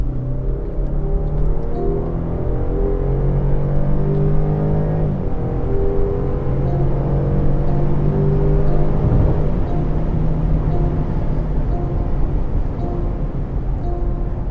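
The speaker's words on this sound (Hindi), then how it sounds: "और अब यहाँ पे थोड़ा सा थ्रॉटल दे के देखते हैं।" A 2026 Land Rover Defender P300 engine revs under throttle during a drive, a loud steady rumble rising and shifting in pitch with a brief surge midway, heard from inside the vehicle without speech.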